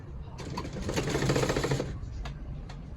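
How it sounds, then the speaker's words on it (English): A sewing machine stitches the side seam of a trouser side pocket in one short burst of rapid needle chatter lasting about a second and a half, followed by a few faint clicks. "I'm going to be pinning that down and stitch the sides together."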